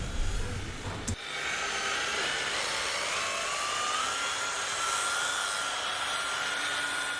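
A machine polisher buffs a sanded car paint panel at a medium speed setting, giving a steady, close whirring drone that runs nearly unbroken after a brief bump at the start.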